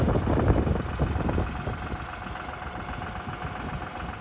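A tractor engine idling on a pole barn construction site, a low steady rumble with slight throbbing that is somewhat stronger at first and then settles, heard nearby with no speech.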